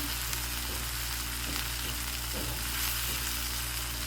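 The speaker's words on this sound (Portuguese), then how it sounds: "primeiro eu vou dar uma refogada a ponto que ela comece a murchar, comece a ficar transparente" Onion sautéing in a pan, a constant loud sizzle with faint stirring scrapes throughout and no talking.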